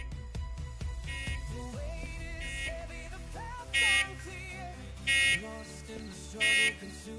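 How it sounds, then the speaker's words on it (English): Car alarm in the train game Derail Valley, a looping electronic warble with repeated bright pulsing blasts, heard alongside other tonal game sounds. "It really does sound like a car alarm."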